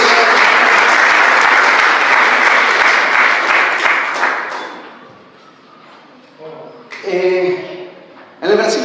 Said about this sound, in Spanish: Denle ese aplauso al Señor que está guardando.